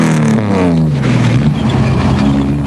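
A Nissan Hardbody truck competing in the 2003 Caledon 400 off-road race in South Africa, its engine loud and close, revving with a pitch that sweeps downward and then holds as it charges past.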